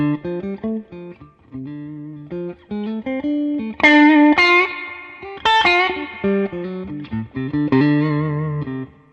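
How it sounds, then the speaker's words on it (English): Clean electric guitar notes played through a Fender amp with heavy reverb, phrases ringing out and trailing off between bursts of picked chords. "So when you play the guitar, you're actually driving the reverb."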